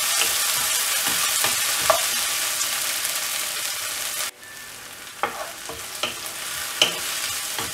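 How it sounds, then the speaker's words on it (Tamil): Onions fry with mustard seeds in a pan, a loud steady sizzle with scraping stir strokes; partway through the hiss drops abruptly to a quieter fry, with a few sharp clinks and scrapes afterward. "வெங்காயம் ஆட் பண்ணிவிட்டு ஃப்ரை பண்ணி விடணும்"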